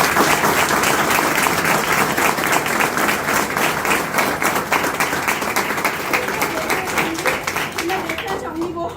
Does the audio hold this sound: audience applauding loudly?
yes